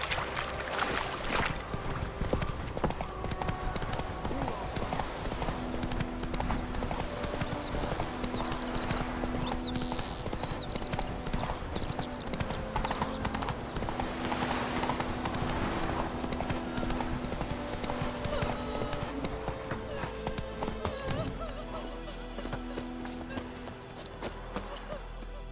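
Horse hooves clip-clop steadily as Geralt rides Roach in The Witcher 3, a continuous even trot under ambient game sound and soft music, with a neigh briefly audible.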